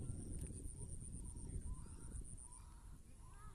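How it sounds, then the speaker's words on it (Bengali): Faint bird calls, honks and caws, sound now and then at dusk over a steady low outdoor rumble, distant and soft. "এখন পাখির ডাক শুরু হচ্ছে"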